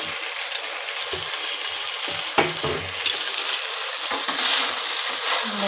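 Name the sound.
stirring pasta with vegetables and chopped coriander in a pan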